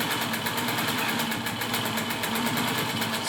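A Singer Featherweight sewing machine runs continuously while sewing long mask straps, making a steady, close mechanical hum with fast, even stitching pulses and no pauses.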